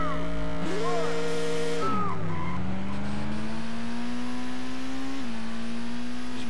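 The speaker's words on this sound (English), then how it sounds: "Let's see how the car performs." A race car in Street Legal Racing Redline on nitrous screams through long gears, engine pitch climbing, dipping sharply at a shift, then climbing again, loud and close with tire squeal, no talk.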